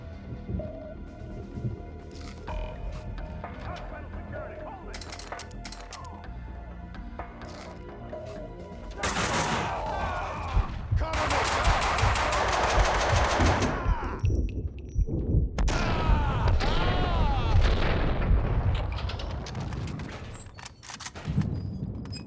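Max Payne 2 gunfire: sporadic sharp shots crack over a musical game soundtrack, growing into denser bursts of firing in the middle before thinning out again.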